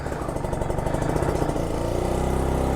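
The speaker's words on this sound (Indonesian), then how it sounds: "Jadi hari ini gue mau manasin ninja." A Kawasaki Ninja RR 150, an older two-stroke sport motorcycle just back from service, idles while warming up, a close, buzzy, rapidly pulsing engine note that stays steady and loud for a few seconds, no talking.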